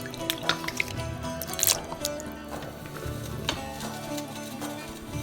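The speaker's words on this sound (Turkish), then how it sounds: "yapışmasın diye soğuk suyun içine atıyorum." Pieces of manti dough are dropped into cold water so they won't stick, giving small wet plops and drips close by over a soft background, with several splashy sounds spaced through the stretch.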